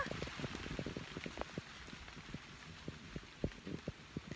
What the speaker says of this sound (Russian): сегодня целый день дождичек поливает. То посильнее, то послабее